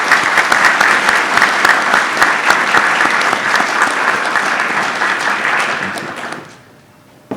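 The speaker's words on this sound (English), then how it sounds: "Please join me in a round of applause to recognize these college officers." A crowd at a college engineering induction ceremony applauds its college officers, with dense, loud, sustained clapping for about six seconds before it fades out and a brief sound closes.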